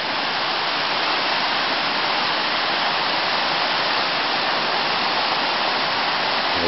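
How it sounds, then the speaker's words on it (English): Fast-running river at a wild camp, a dense steady rush of water that is loud and constant with no pauses. "River's running a bit fast."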